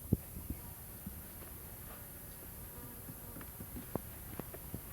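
Angry honey bees from a just-harvested hive buzz steadily around, a continuous close insect hum with a few soft knocks and taps scattered through it.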